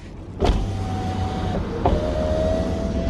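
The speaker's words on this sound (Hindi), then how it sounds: "कार ऑफ करने के बाद मुझे ख्याल आया शीशा नीचे है, तो ये शीशा तब भी ऊपर होगा।" A Honda City's power window motor whirs steadily as the glass rises after the engine is switched off, with two distinct clunks: one as it starts and another partway through.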